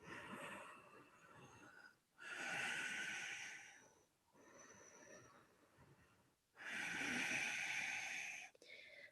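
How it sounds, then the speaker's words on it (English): Slow, deep breaths during a gentle yoga pose: long airy inhales and exhales alternate, close and soft, with quiet pauses between. "Let's breathe 5 long breaths here."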